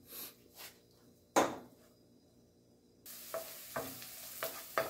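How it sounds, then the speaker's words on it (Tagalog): Garlic and onion sautéed in a pan for spare rib caldereta, with a low background sizzle, a few spoon scrapes and clunks against the pan, and a brighter, louder frying hiss in the second half. "magigisa tayo ng bawang at sibuyas"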